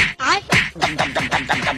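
A cartoonish duck quacks rapidly, a string of nasal squawks in quick succession, loud and close.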